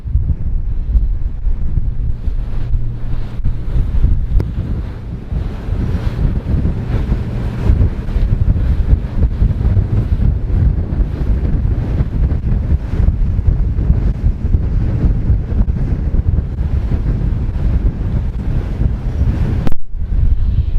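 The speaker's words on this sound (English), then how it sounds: "Everything's really being buffeted by the wind at the moment up here, as you can tell." Strong, constant wind buffets the microphone aboard a Trader 535 Sunliner boat rounding toward Portland Harbour, a loud rumbling roar with gusty flutter, faint water and hull noise beneath, and a brief dropout near the end.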